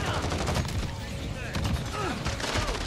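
Rapid, loud shotgun blasts fire in quick succession in the first-person shooter Modern Warfare, with muffled game noise and a voice in the background.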